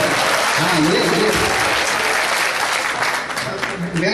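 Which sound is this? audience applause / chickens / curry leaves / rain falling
audience applause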